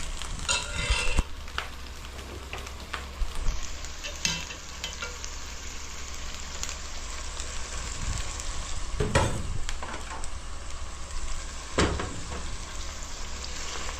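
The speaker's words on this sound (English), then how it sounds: "Just roasting beans a little bit" Beans roasting in a pan, with a steady, fairly quiet sizzle running throughout and broken by scattered sharp crackles and pops.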